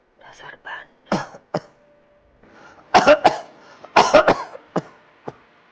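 A sick man, an older father, coughs repeatedly in hard separate fits at close range, with a few softer throat sounds and breaths between the bursts.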